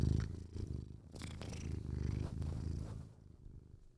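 A cat purrs close by in a steady, continuous low rumble that swells and fades over a few seconds, with no talking.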